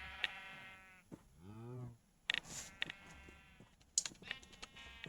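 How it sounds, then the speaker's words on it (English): Sheep in a video game give several bleats, wavering cries heard close and alone, separated by short pauses and mixed with faint clicks and quiet background noise. "the cries of 50 sheep"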